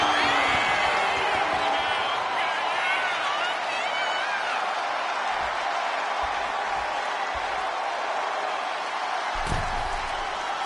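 A loud arena crowd cheers and roars continuously during a WWE 2K25 wrestling match, with occasional slam-like thuds and a commentator talking over the din.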